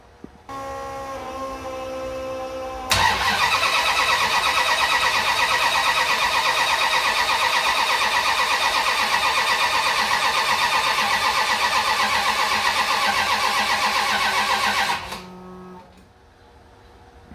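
A 1979 Dodge D100 that sat unused for two years cranks briefly, then fires and runs at a loud, steady idle for about twelve seconds before shutting off, close by with no talking.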